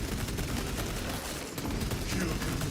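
Rapid, dense bursts of heroic-weapon gunfire ring out in a shooter video game test, a fast continuous stream of shots with little pause.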